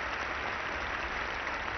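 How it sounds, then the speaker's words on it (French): Large crowd at Roland Garros applauding the players after a 1971 men's semifinal tennis match, a steady sustained clapping that fills the whole moment without a break. "Et le public qui est venu très nombreux ici à Roland-Garros applaudit les deux joueurs"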